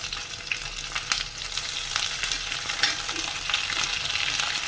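Two sliced onions sautéing and being stirred in a hot pan for Kerala-style prawn roast (chemmeen roast), with garlic already softened, giving a steady close sizzle with scraping stir noises throughout.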